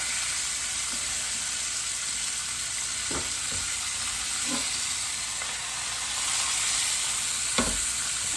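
Chicken pieces for a caramelized shallot dish brown in a hot pan, giving off a steady close sizzle broken by a few soft knocks as the pieces are flipped.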